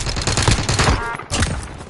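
Rapid gunfire in a multiplayer shooter video game, a dense burst of shots with a brief pause near the end, loud and close, followed by a few more cracks.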